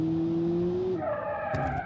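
Car engine tone in Automation, driven hard through a parking lot, holds steady then shifts to a higher, richer pitch as the car accelerates, with tire noise beneath, loud and close throughout.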